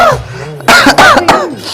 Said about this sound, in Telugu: దగ్గుతున్నాడు కదా